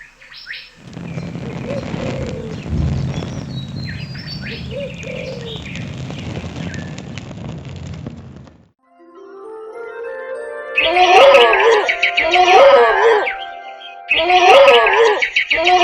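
A cartoon bird squabbles with a bear, first under a muffled rumbling scuffle, then in loud, repeated chirping and cooing calls in quick bursts near the end.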